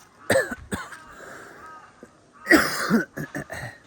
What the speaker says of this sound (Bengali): আর প্রচণ্ড পরিমাণের কাশি হয়েছে।